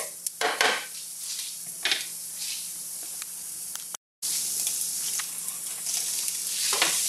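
Garlic and ginger sizzling in a pan, a loud, continuous close-up frying hiss with a few sharper crackles and bursts, broken by one very brief dropout, no talking.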